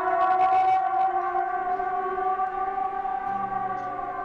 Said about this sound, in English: The hellish sounding sirens leading up to it.